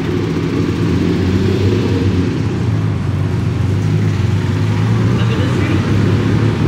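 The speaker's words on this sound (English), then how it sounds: "A Countach with like 10 different exhaust pipes." A Lamborghini Countach fitted with a large cluster of exhaust pipes, its engine making a loud, steady, deep drone with a throbbing low rumble, held close and continuous with no pauses.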